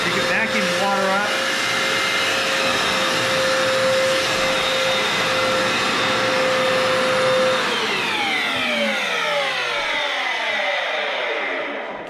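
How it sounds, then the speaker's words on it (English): A wet-dry floor cleaner vacuuming up water, its steady loud motor whine running close and continuous before winding down with a falling pitch at the end. "When you switch it to dry, you can vacuum the water up."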